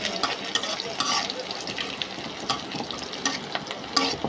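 Oil frying Iftar snacks in a pan, giving a steady close sizzle and crackle throughout with small scrapes and stirring clinks on top, while a voice talks faintly in the background.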